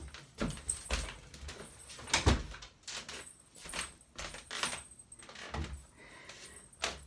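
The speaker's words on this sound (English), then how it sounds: "I'm going to close that door." A run of knocks, rattles and scrapes ends in one solid thud as a door shuts nearby, with a jangle of metal in between.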